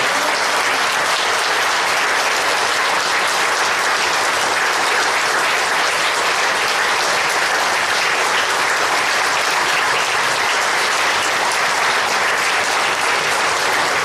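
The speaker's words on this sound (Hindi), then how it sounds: "और इतनी जोरदार ताली बजाए कि गूंज जाए पूरा शहर।" Sustained, loud, dense applause fills a hall at an Independence Day celebration at MIT Moradabad, an even, unbroken roar of many hands clapping together for the whole stretch, with no talking.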